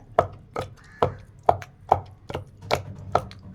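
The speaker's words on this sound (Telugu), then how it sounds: "ఇదిగోండి టమాటాలు దంచుతూ ఉంది, బాగా ఎర్రగా ఉన్నాయన్నమాట." Tomatoes pounded for a green chilli, tomato and tamarind chutney, with eight or so heavy thuds landing at a steady rhythm, each ringing briefly before the next strike.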